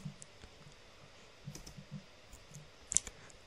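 Computer mouse clicks during setup of a TwinCAT OPC UA server come as scattered light, close taps with short pauses between them. The room is otherwise quiet and no one speaks.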